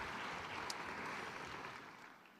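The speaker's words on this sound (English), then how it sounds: "Another round of applause, please, for the Secretary General" A General Assembly hall at the United Nations applauds Secretary-General António Guterres, faint and distant steady clapping that slowly tapers off.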